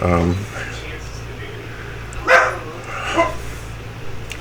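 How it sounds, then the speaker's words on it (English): A dog barks twice at moderate distance, two short sharp yelps over a steady low hum, with a brief voice at the very start. "that's my dog."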